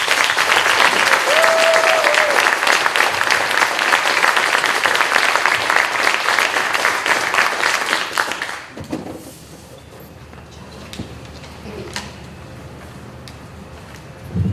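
Audience at a school committee meeting applauds loudly with sustained close clapping and some cheering. After about eight seconds it cuts off, leaving a quiet room with a few faint knocks.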